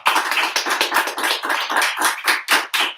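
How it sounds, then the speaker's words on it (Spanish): A small audience at a book presentation in Casa Tomada bookstore in Colombia claps in uneven, close bursts of hand claps, crisp and fairly loud with no talking. "Un aplauso."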